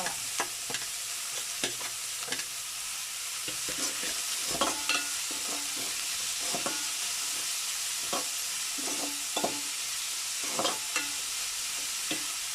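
Curry leaves and cinnamon sauté in hot oil in a pan, giving a steady close sizzle broken by scattered stirring clinks and scrapes, with no talking.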